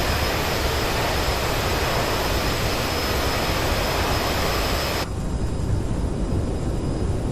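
CRJ regional jet engines in reverse thrust after landing in Microsoft Flight Simulator: a loud, steady roaring rush that drops suddenly to a softer hiss partway through.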